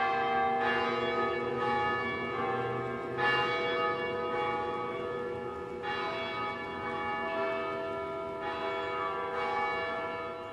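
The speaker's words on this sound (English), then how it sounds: "Burlington's bells chimed in concert for the first time in 2003." Several large church bells across downtown Burlington ring together in a coordinated concert, overlapping peals struck at intervals and sustaining with long resonant tails, fairly distant and continuous with no voices.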